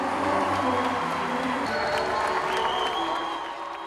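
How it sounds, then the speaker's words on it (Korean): Attendees at the World Camp opening ceremony applaud and cheer steadily for President Jeanine Áñez and Pastor Ock Soo Park, a dense, continuous wash of clapping and crowd noise that eases slightly at the end. "자니네 아니에스 대통령과 박옥수 목사를 열렬히 환호하며 반기는 월드캠프 참석자들의 박수가 이어지고"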